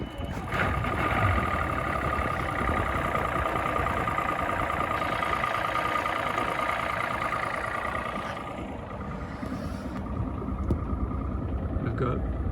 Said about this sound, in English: turn the key to start the engine.